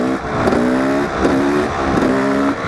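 Motorcycle engine held up in a wheelie, revving in three rising surges with brief dips between them, loud and close with no talking.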